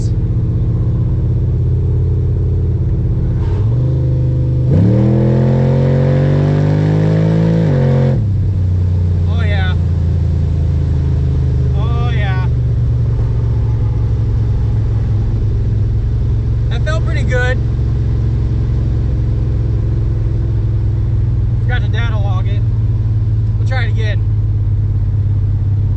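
A Chevrolet Caprice station wagon running nitrous revs hard in first gear, its engine note climbing in a loud, rising sweep for a few seconds before dropping back to a rumbling idle, with brief chirps and short bursts following.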